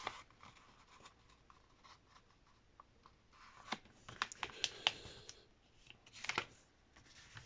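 Sheet of paper being folded and creased by hand into an origami hat, with soft crinkling and scraping through most of the stretch and sharper crackling creases clustered toward the middle and near the end, close and fairly quiet, no talking.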